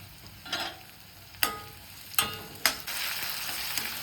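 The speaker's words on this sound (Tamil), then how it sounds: "ஒரு தக்காளி நறுக்கி வச்சுருக்கேன், அதை சேர்த்து இப்போ நல்லா வதக்கிக்கலாம்" A spatula scrapes and stirs chopped tomato in a pan several times over a steady sizzle of frying, with no voices.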